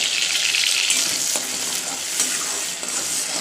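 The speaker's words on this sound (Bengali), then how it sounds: "এবার মশলাটা দিয়ে দিই। মশলাটা ভালো করে কষিয়ে মাছগুলো দিয়ে দেবো।" Spice paste fries in hot oil with black cumin seeds while shrimp in mustard sauce is cooked, giving a steady loud sizzle with a few utensil scrapes and no talk.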